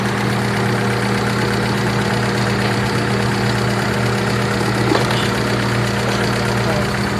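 A Hyundai Atoz engine, treated with XADO for blow-by, idles steadily up close with an even, continuous hum and faint knocking rattle, no talking.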